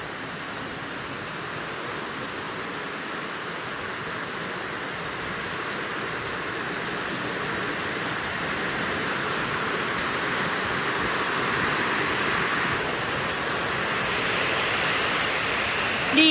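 Heavy rain pours steadily in a rural Thai setting, a dense, even hiss close by that slowly grows a little louder over the whole stretch, with no talking over it.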